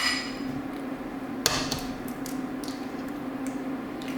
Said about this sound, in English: I'm just going to crack straight into the jug the 2 eggs